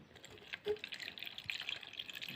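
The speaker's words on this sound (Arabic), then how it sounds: "بعد كده هنزود عليها المية، هننزل بعد كده بكوباية مية." A cup of water poured into a cornstarch mixture for chicken shawarma fatteh, a faint, soft splashing and trickle running for a couple of seconds, close by with no talking.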